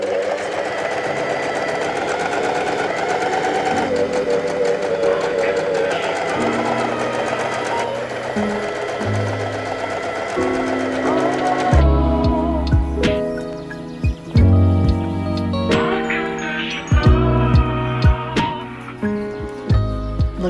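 A sewing machine stitches pieces of a reversible vest and its lining, running in steady mechanical bursts with short pauses and clicks between seams, close and fairly loud.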